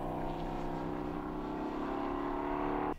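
A De Tomaso Pantera with a 5800 cc V8 and manual five-speed gearbox drones steadily at a historic endurance race at Dijon, a loud sustained engine note that cuts off abruptly near the end.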